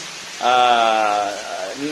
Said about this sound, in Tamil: நல்ல சப்தத்துடன் கூடிய பெருமழை.